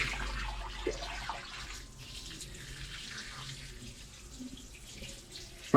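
Water pours steadily from an open pipe into a turtle tank, a soft continuous splashing rush heard alone at low level.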